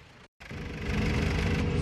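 Tractor engines from a farmers' protest rumble steadily at close range, a continuous loud idling drone that briefly cuts out near the start, then resumes and builds slightly.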